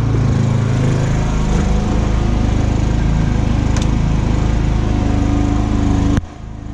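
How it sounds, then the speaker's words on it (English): A loud, steady engine drone of a generator running in a solar power setup, constant throughout and dropping off suddenly near the end. "it's gonna get a little loud with the generator going"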